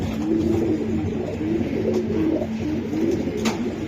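A female racing pigeon coos close up in a run of repeated, rolling low coos that pulse at a steady rhythm with no talking around it.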